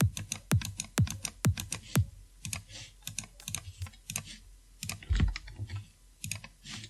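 EDM kick drum built in FL Studio for the start of a drop, thumping in an uneven run of punchy hits with a downward pitch sweep and a faint noisy click on top.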